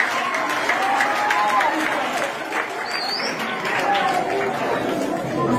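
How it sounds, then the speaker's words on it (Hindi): School students at a traffic warden awareness program clap together in a lively burst while people chatter close by, the applause rising and fading around voices. "अच्छा ये ले बेटा तालियां"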